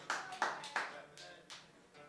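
Scattered clapping from a small audience at an open music session in Denver, a handful of separate hand claps spread over two seconds, fairly faint and thinning out.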